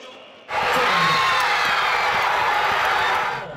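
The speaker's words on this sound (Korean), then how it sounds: "경기 막판 간절하게 기다리던 손흥민이 마늘골을 터뜨리자 거리는 사람들의 환호성으로 떠나갈 듯합니다" A street crowd roars with cheers and whoops for a late Son Heung-min goal in a World Cup match. After a quiet start the cheering bursts in loud and sustained, then fades slightly at the end.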